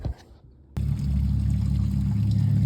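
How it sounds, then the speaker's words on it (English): Gasoline draining from the fuel tank of a 1995 Dodge Grand Caravan, starting after a short quiet moment as a steady, close, full gushing pour that holds at an even level. "Alright, so I'm draining the gas."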